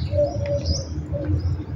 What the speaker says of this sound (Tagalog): Yung huni ng ibon